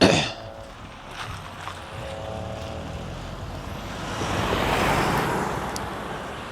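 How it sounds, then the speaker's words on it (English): A car passes by on the road, a broad rushing roar that builds and swells near the end, outdoors, with no voices. "There's a car coming."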